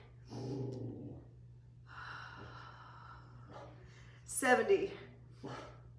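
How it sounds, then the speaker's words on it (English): A dog lets out a short, sharp bark or two between stretches of a person speaking, with quieter snuffling and breathing sounds around it. "What is he barking at?"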